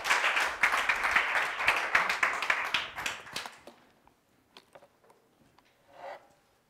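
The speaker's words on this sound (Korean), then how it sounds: "박수로 환영해 주시기 바랍니다." A church congregation at a Sunday worship service claps loudly to welcome the pastor, sustained applause for about three and a half seconds that then fades to a few scattered taps and near silence.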